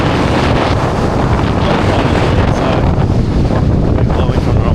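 Strong wind buffets the microphone at the Nazaré surf break in Portugal, a loud continuous broadband roar with waves and surf mixed beneath it.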